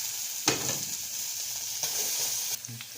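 Peanuts frying in oil in a pan for chutney, a continuous bright sizzle with a few stirring scrapes and clatters, close and steady, no talking.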